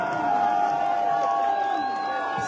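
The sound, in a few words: crowd applauding and cheering at political rally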